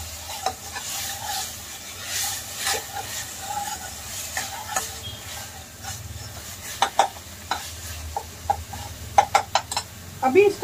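Masala with ginger garlic paste sizzling in a pan for paneer lababdaar, a steady low fry with spoon stirring clicks and scrapes, a voice talking over it.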